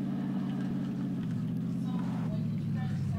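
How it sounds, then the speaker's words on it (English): A steady low vehicle engine hum in a video game drones throughout, even and unbroken, with a faint voice underneath. "I hear an engine."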